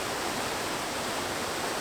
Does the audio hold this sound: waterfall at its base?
yes